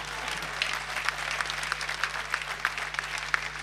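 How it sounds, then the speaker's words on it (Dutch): Audience applause for Johan van Wezel, a local hero, at a Sauwelen 2015 comedy show by Ron Hermus in Gersel: steady, moderately distant clapping from a crowd that holds throughout, with a low electrical hum beneath. "Applaus voor Johan."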